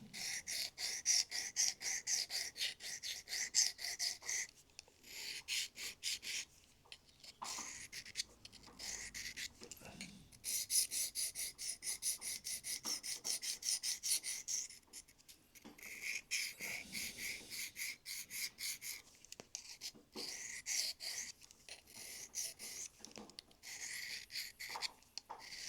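A knife is drawn across a Fallkniven DC3 pocket sharpening stone in repeated faint, raspy strokes, arriving in short bursts separated by brief pauses.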